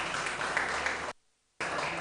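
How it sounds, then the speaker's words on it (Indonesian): An audience applauds a football coach at a national football discussion event in Indonesia, a brief burst of clapping that cuts out abruptly to silence before resuming. "Tepuk tangan sekali lagi untuk"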